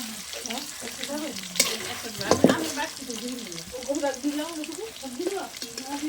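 Raw banana pieces fry in a pan with garlic and onion, giving a steady sizzle with scraping stirs and a sharper clatter midway. Faint voices may sit in the background.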